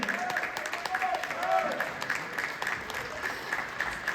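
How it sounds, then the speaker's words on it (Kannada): Audience applause at a Kannada Rajyotsava celebration, soft and steady, with voices and faint tones mixed into the clapping throughout. "ಒಂದ್ಸಲ ಜೋರಾದ ನಮ್ಮ ಚಪ್ಪಾಳೆ"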